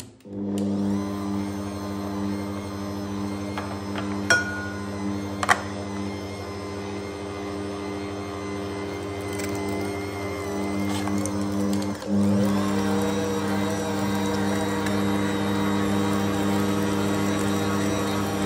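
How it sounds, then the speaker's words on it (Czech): An electric meat grinder minces chunks of pork shoulder with a steady, droning motor hum, broken by a couple of brief knocks early on and a slight shift in tone partway through. "Tady mám vepřovou plec, takhle si ji nakrájím, aby se mi to vešlo do mašiny. A teď si to prostě normálně umelu."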